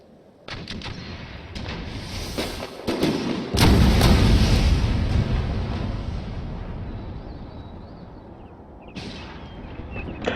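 Artillery fire in the video game Empire Total War, a series of heavy booming thumps with rumbling battle noise that swells loud and then fades, no talk over it.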